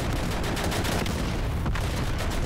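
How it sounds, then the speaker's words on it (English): Gunfire and artillery in Easy Red 2, the World War II shooter, with rapid shots and distant booms blending into a dense, constant battle roar. "People are shooting at us."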